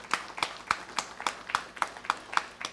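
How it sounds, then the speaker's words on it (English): Sparse, rhythmic clapping as an audience welcomes a speaker at an HR leadership event, with about ten evenly spaced claps that sound fairly faint and thin rather than like a full crowd. "a big round of applause"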